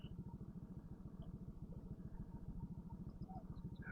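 A motorcycle engine idles steadily while warming up, with a fast, even low thumping pulse that stays loud and close for the whole stretch, and faint scattered bird chirps above it.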